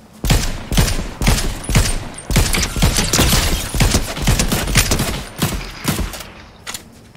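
Loud sustained gunfire in Fortnite, a long irregular string of sharp shots and rapid bursts running steadily for several seconds.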